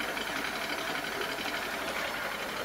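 An Evolution Aqua Tempest pond pump starts and runs with a steady, fairly loud mechanical hum and buzz that holds without a break.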